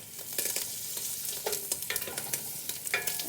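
A tablespoon of butter melting in a pot, heard as a crackling sizzle with busy scraping and stirring strokes that come in uneven bursts, no voices over it.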